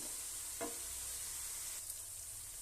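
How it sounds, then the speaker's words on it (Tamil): Mint, coriander and green chili paste sautés in a pan for chicken donne biryani, giving a steady, quiet sizzle with a brief stir or scrape partway through, with no one speaking. "இப்போ இதை நல்லா மிக்ஸ் பண்ணி விட்டுட்டு இந்த பச்சை வாசனை போகிற வரைக்கும் நல்லா வணக்கிட்டு"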